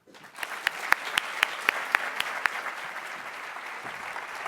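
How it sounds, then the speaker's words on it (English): An audience breaks into applause to welcome a speaker, a dense burst of clapping with sharp individual claps standing out early, then settling into a steady, moderately loud wash that carries on to the end. "So please join me in giving a warm round of applause to the Honorable Julian Castro."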